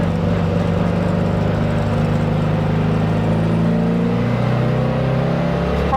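A 1956 Porsche 356A coupe engine running at steady speed during a test drive, a continuous loud drone with a slight pitch change near the end, heard from inside the car.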